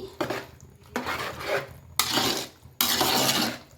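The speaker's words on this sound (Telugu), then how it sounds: "ఇందులోనే కొంచెం షేర్వా వేసేసుకుందాం మిక్స్ చేసేసుకోండి" Biryani mixed with sherva in a pot, giving a run of scraping, rasping spoon-against-metal strokes in bursts, close and fairly loud, with no voices.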